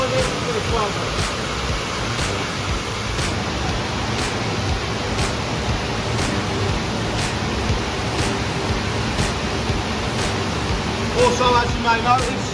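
A Zafferani SV160 glass washing machine runs with water, giving a steady hissing spray over a low mechanical hum, with faint regular clicks roughly once a second.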